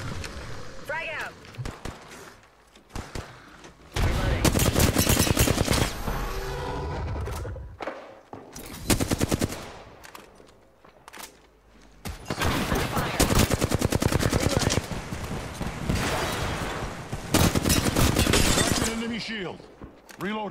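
Rapid bursts of automatic gunfire and loud weapon blasts during an Apex Legends match, coming in long intense volleys with short gaps between them.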